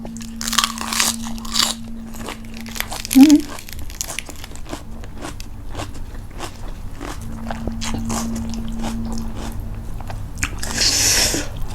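Close crunchy chewing of a salmon salad with boiled bamboo shoots, loud bites and crinkly crunches in irregular bursts, with a voice talking briefly amid the eating.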